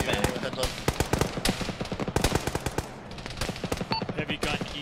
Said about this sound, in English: Heavy gun east.